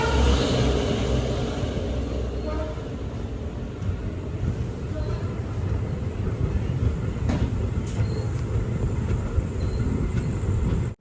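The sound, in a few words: Maveli Express train running, leaving Cheruvathur railway station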